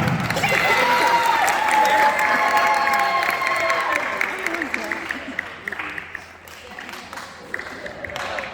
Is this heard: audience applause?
yes